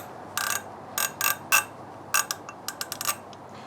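A ratchet with a 10mm socket tightens a bolt during a lever replacement on a Yamaha FZ09 motorcycle, giving a few short, close clicking bursts in uneven spurts with brief pauses between strokes.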